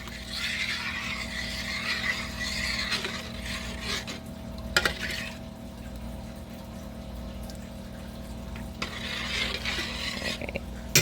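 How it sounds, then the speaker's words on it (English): High protein clam chowder stirred in a pot, a spoon scraping and swirling through thick liquid with a soft bubbling undertone and a couple of sharp clinks. "Let's give this a stir here."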